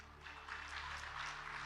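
An audience claps together at a devotional discourse, a dense patter of hand claps rising after a brief lull and going on steadily under low background hum.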